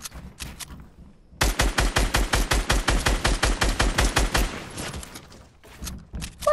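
Rapid automatic gunfire in a video game, a steady burst of evenly spaced shots lasting about three seconds, preceded and followed by scattered single shots and game noise.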